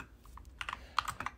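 Clicks from typing on a new computer keyboard come in quick irregular bursts of keystrokes, close and fairly quiet, with no talking.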